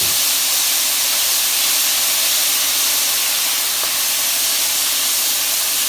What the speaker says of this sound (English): Now you're going to start adding your soy sauce.